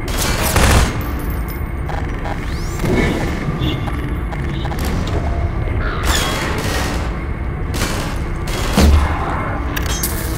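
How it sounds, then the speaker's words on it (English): Loud gunfire in the video game Half-Life 2, with bursts of rapid shots and several heavy booming impacts spaced across the stretch, over a constant noisy backdrop of combat. "Who's shooting at me?"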